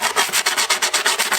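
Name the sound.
filing skateboard grip tape edge with a file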